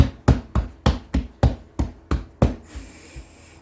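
Hands pat vegan biscuit dough flat, about eight firm, evenly spaced dull slaps in quick rhythm, close and clear, then a brief quiet rustle.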